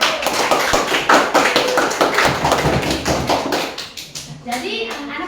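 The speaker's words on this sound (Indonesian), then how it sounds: "Tepuk tangan dulu." Children in a primary school classroom clapping in quick rhythmic claps, loud and close, tapering off as young voices chatter and call out.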